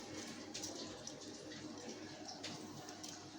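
Water pours from a measuring mug into a pot for beef kacchi biryani, a faint, continuous splashing rush with slight rises and falls, no voices.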